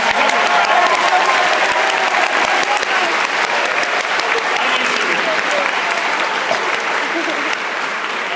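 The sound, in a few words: massive round of applause from conference audience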